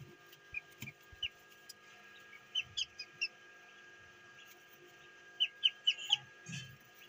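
A newly hatched Chinese duckling in an incubator gives faint, high-pitched peeps. They come in short scattered clusters over a quiet background.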